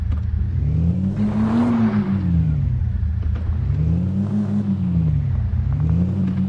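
A Mahindra Scorpio N's engine revs loudly and close during off-road driving, rising and falling in repeated surges with a steady rumbling drone throughout.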